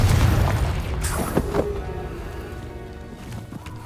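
A single loud Confringo blast in Hogwarts Legacy, a deep boom at the start that decays into a fading rumble, with a sharp magical crack shortly after.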